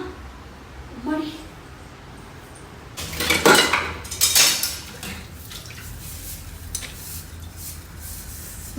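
Dishes, pots and cutlery being washed in a home kitchen during Ayudha Puja cleaning, with clattering and clinking bursts in the middle and running water throughout, beneath a low background hum.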